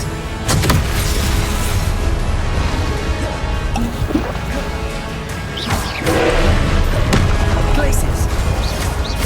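Spell-casting effects in Hogwarts Legacy on Xbox Series S: a dense, loud wash of magical bursts and whooshes, with sharp blasts near the start and middle, under a voice shouting incantations.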